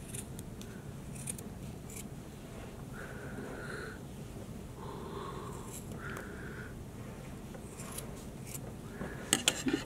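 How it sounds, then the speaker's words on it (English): Small scissors snip through yarn during a children's craft project, a series of close, crisp cuts coming in short bursts over steady low background noise. "I have a tiny scissors here. But I'm going to cut through it and make sure I cut through the middle part too."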